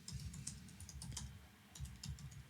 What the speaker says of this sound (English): start typing the message